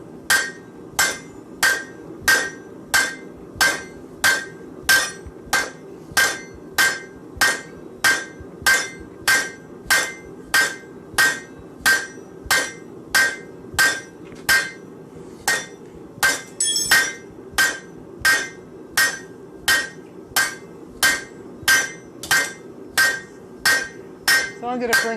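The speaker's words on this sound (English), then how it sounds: "I'm a wild man with the hammer." Hot metal hammered on an anvil while forging a nutcracker: a long, steady series of ringing hammer blows, about one per second, loud and close with no talk.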